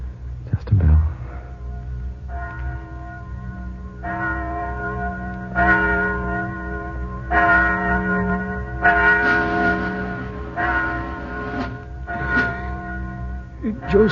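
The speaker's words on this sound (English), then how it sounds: "Do you hear something? Just a bell." A church bell tolls the hour at 11 o'clock in wartime Adano, ringing out in a slow series of resonant strikes whose long humming tails overlap, steady and fairly loud.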